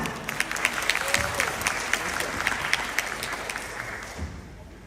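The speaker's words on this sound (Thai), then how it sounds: "ขอเสียงปรบมือดังๆด้วยครับ" Applause from an audience at a youth music contest before an ensemble performs: dense clapping with sharp individual claps standing out, steady then fading near the end.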